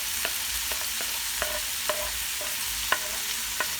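Green and red peppers fry in olive oil in a pan, a steady low sizzle broken by sharp clicks and taps of a utensil stirring at irregular intervals, no voices.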